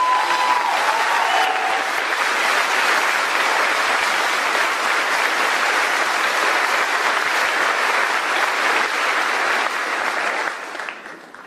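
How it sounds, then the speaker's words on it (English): Steady, full applause from a large crowd at a high school graduation ceremony, sustained for about ten seconds before fading out at the end. "So we can give a round of applause for Mr. Ambron."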